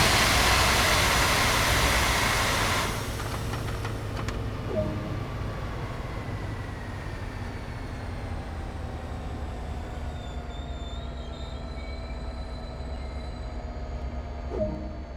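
An F40PH locomotive in Train Sim World 2 rumbles steadily under emergency braking, with a loud hissing burst of air at the start that fades into a long, continuous mechanical drone as it slows.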